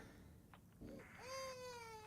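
An indoor cat gives one clear, drawn-out meow that rises and then falls. It is close and distinct, following a short stretch of faint household noise and brief thumps.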